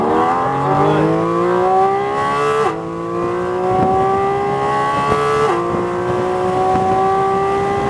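A Porsche GT4 RS engine accelerates hard on a race track, a loud sustained rising howl from inside the car with two sharp upshifts marked by brief dips in pitch.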